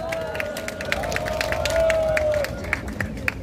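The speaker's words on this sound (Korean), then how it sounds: "다시 한번 공영연합 사무총장 조영원 총장님께 큰 박수 부탁드리겠습니다." Crowd at an outdoor Korean political freedom rally clapping and cheering together, a steady patter of many hands with scattered sharp claps and a high whistle-like cry rising through the middle.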